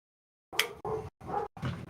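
Dogs give a short burst of barks and yips close by, four quick separated bursts after a moment of silence.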